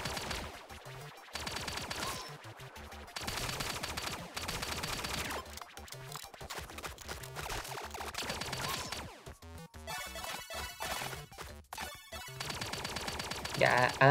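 Bursts of gunfire from a newly picked-up weapon in the game Relic Hunters, repeated loud clusters of shots separated by short gaps, mixed with game music and effects.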